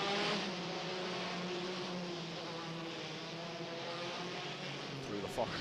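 Formula 3 race cars of the FIA F3 European Championship in 2014 running behind the safety car, a steady, fairly distant drone of engines holding a constant pitch throughout.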